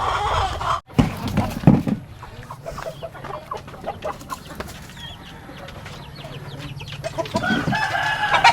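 A rooster crows loudly and close by, followed by repeated clucking and fowl calls against a busy farmyard background.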